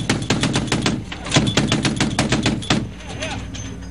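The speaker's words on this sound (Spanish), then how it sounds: "¿estos son disparos a un enemigo o están posando para las cámaras?" Rapid automatic gunfire from Iraqi armed forces in news footage, loud sustained bursts of machine-gun shots rattling continuously for about three seconds before fading into a quieter tail.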